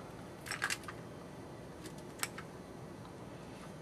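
Scissors cutting red liner tape in a quiet craft setting, a few short crisp snips in a cluster followed by a couple of isolated snips, close and faint.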